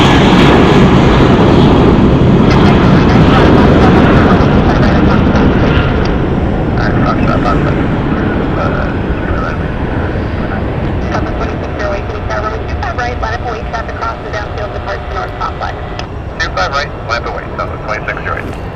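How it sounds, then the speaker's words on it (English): A Southwest Airlines Boeing 737-700 departs Phoenix Sky Harbor Airport, a loud sustained jet engine roar that slowly eases off over the clip, with radio chatter in the background. "Next up for departure is Southwest Airlines 3659, I believe, going to Albuquerque, New Mexico."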